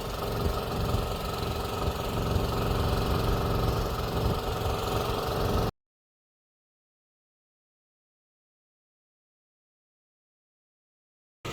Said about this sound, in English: It is hydraulically driven off that Honda pump